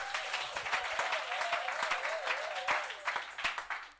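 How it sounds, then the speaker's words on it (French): A church congregation breaks into brisk, loud applause, dense overlapping claps with a sustained tone and some voices mixed in, lasting throughout before tapering at the end. "Acclamons très fort pour notre Seigneur."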